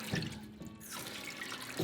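Water runs steadily from a tap into a sink, a continuous close splashing hiss with slight changes in flow.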